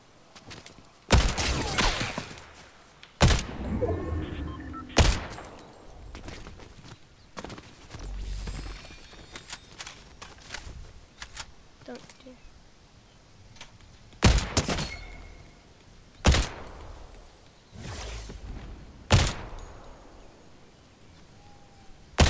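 Gunfire in a shooter video game: sharp loud shots and short bursts ring out at irregular intervals amid softer in-game shuffling and movement noise, with no talk.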